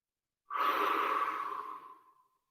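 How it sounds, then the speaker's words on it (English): Deep clearing breath let out through an open mouth during a hatha yoga session, a single long, close, airy exhale that starts abruptly and fades out gradually over nearly two seconds in otherwise quiet surroundings. "Deep inhale. Open mouth, exhale."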